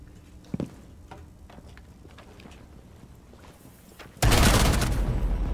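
Shotgun fire in the tactical shooter Rainbow Six Siege, a sudden loud blast near the end that rings out over quiet in-game footsteps and small clicks.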